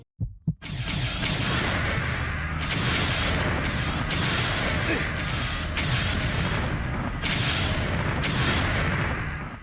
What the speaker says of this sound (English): Blood Omen has some of the more satisfying enemy explosions I've come across.